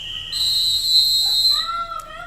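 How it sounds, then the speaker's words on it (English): Two-minute warning whistle at a mile running race: a loud, sustained high whistle blast holds for over a second over a murmuring crowd, followed by shorter fainter whistle tones. "That's the 2-minute whistle."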